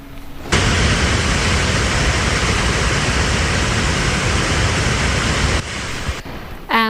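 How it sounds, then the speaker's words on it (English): Water races down Minneopa Falls near the Minnesota River, a loud, steady roar of rushing, crashing flow that fills the air close by and then cuts to quieter surroundings near the end. "You can see and hear water racing from the waterfall before plummeting into the Minnesota River"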